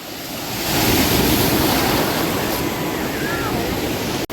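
Ocean surf rolls in at Puri beach, India, with a broad, steady roar that swells early and holds, mixed with wind buffeting the microphone.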